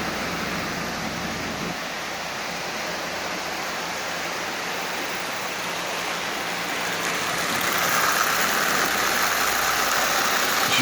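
Marx 1666 toy steam locomotive at about 60% power pulling 18 Lionel cars, giving a steady whirring motor and rolling rumble that swells slightly louder near the end, with no voices.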